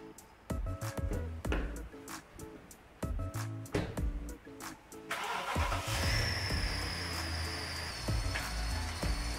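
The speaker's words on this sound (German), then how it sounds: "Ich fahre den Wagen jetzt hier rein" A 2007 BMW X5 V8 SUV, bought cheap with accident damage, starts up and drives in: scattered clunks and knocks first, then the engine catches and settles into a loud, steady rumble with a high whine above it.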